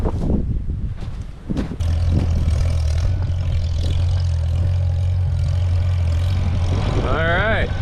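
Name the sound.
tractor engine running as it approaches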